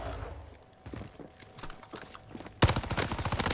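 Gunfire in Call of Duty Warzone, a game, rendered as rapid automatic bursts that swell into a loud, dense volley near the end, layered over game ambience.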